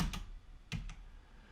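A few quick keystrokes on a computer keyboard, two short clusters of taps close by and fairly quiet, with a low room hum between them.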